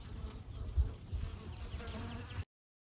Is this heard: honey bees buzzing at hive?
yes